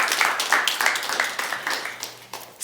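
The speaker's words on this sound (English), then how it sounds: "Can you guys just give yourselves a big round of applause for having goals?" Audience applause at a live talk show event on body language, a steady crowd clapping that rises and falls in bursts over a few seconds, moderately near with no speech over it.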